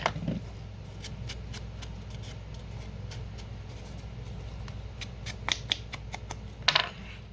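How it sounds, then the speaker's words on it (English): Scissors scrape and snip along the edges of paper for a vintage cupcake pinwheel collage, a run of quick, dry, close clicks and scratches at an uneven rhythm, growing denser near the end. "I will use my scissors to rough up the sides so that I don't have to tear it."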